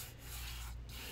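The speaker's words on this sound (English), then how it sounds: "why is she rubbing the page?" Close and faint, a hand rubs across a paper page in an art studio with stencils set out, making a soft continuous scratchy friction sound with brief pauses between strokes.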